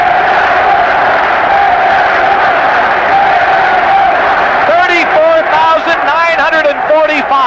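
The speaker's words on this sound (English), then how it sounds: "Listen to this crowd." A baseball stadium crowd of about 35,000 roars after a home run into the right center field seats at a White Sox game against the Royals. It is a loud, sustained mass cheer, and whoops and yells rise over the noise in the second half.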